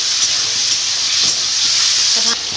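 Shrimp frying in oil in a pan, a loud, steady sizzle with a bright, constant hiss and a few soft clinks of a utensil near the end.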